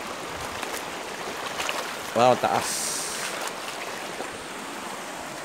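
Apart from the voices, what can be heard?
fast river current flowing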